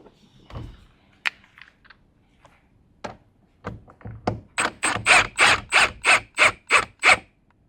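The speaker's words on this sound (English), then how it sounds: "Gonna run our bolt in." A bolt is run in by ratchet during an interior install on a Honda Civic Type R FL5, with scattered clicks and clunks first, then a steady run of about ten sharp, evenly spaced ratcheting bursts, close and fairly loud.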